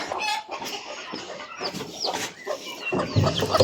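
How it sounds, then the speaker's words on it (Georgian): A chick peeps loudly and repeatedly in a farmyard, with nearby hens clucking around it, in a steady, busy stream of close bird calls. "წიწილა წივის ძალიან"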